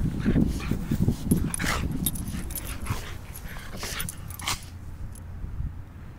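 A dog whimpers and gives short yips and barks outdoors near a bay. The bursts come closely spaced at first, then thin out and fade toward the end.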